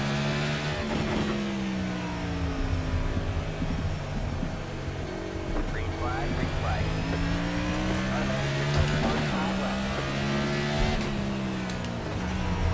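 An SK Modified race car engine in iRacing rolls off in second gear, a loud, steady droning engine note whose pitch rises and falls as the car accelerates, with other engines around it.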